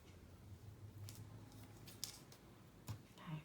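Scissors trimming the paper ends for a handmade mini album: a few faint, sparse snips and crisp cuts at close range in a quiet room, with no talking.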